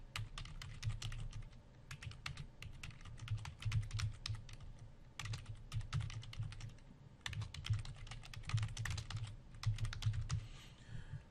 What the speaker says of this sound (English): So you need to type in your title over here.